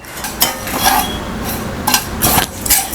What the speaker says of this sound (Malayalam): ഇനി ഇതൊന്ന് ലൈറ്റായിട്ട് ഒന്ന് ബ്രൗൺ കളറാവണ വരെ നമ്മളിതൊന്ന് ഇളക്കി കൊടുക്കുക